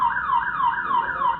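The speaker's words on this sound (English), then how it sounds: "if it wasn't the horn, it was his house alarm, also intentionally set off" A neighbor's house alarm, set off on purpose, wails in a rapid repeating up-and-down siren sweep, loud and close, with about four cycles in a row and no talking.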